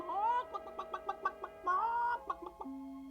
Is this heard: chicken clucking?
yes